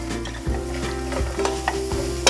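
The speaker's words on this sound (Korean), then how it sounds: "이제 볶아둔 견과류도 넣어주세요. 그리고 살짝만 볶아주세요" Nuts and anchovies being stir-fried in a pan give a close, steady sizzle, with repeated scraping strokes from a utensil stirring them at an even rhythm, and no voice.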